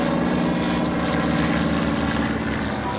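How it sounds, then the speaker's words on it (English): Two T-34 trainer airplanes pass during an air fair photo pass, their propeller engines giving a loud, steady droning roar with a pulsing throb that holds throughout. "Out here on the right side for a photo pass of the two T-34s."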